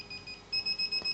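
An anti-escape dog fence collar emits a run of rapid, high-pitched electronic beeps, faint at first then louder, about eight evenly spaced pulses in quick succession, alone.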